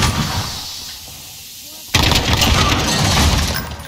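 In Call of Duty Modern Warfare, a cruise missile launch bursts in as a sudden loud roaring blast after a quieter rumbling stretch, with a voice heard over the game sound.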